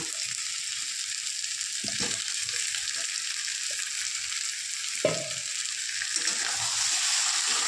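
Potatoes sautéing with chicken curry in a pan give a continuous close sizzle, broken by a couple of brief stirring knocks.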